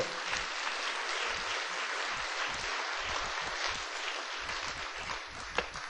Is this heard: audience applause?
yes